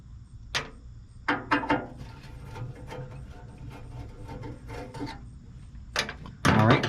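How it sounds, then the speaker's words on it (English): Four screws being backed out of a pellet grill that won't light, giving close, intermittent scraping clicks and a few sharper metallic knocks spaced across a quiet background. "It's just 4 screws, and they come right out, surprisingly."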